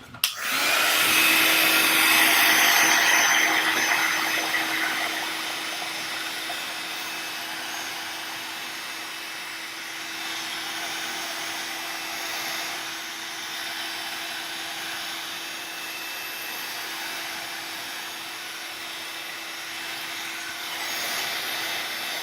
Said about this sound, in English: Let's run that heat tool over it.